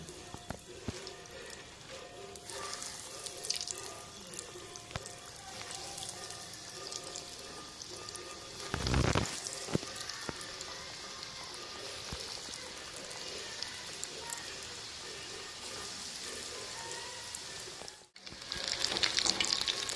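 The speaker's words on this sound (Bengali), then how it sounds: "তেলটা গরম হয়ে গেছে, এক এক করে বলগুলো আমি ছেড়ে দেব।" Fish balls made from rohu or catla fish fry in hot oil with a dense, continuous bubbling sizzle, swelling briefly near the middle and dipping for a moment before rising again at the end.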